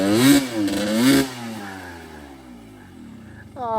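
Beta 300 RR Race Edition two-stroke dirt bike engine with SC3 smart carb revving hard twice in quick succession, loud and close, then settling to a lower idle before a brief rising rev at the end.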